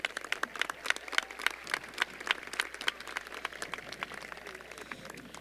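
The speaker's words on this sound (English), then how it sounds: "A round of applause for our great school committee." An audience claps in scattered, fairly sparse applause at a 2017 high school graduation ceremony, heard from a distance in a large hall, with irregular individual claps standing out over a soft crowd murmur.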